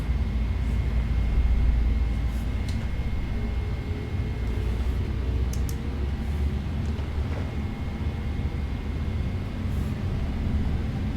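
Boeing 777-200ER jet engines spooling at takeoff thrust in a flight simulator, a steady broad roar with a faint whine held at even loudness throughout.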